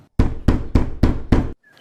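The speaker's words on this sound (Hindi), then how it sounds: "दरवाजे पर दस्तक होती है।" Five firm, evenly spaced knocks on a door in a cartoon, loud and close, each a hollow thud with no talk over them.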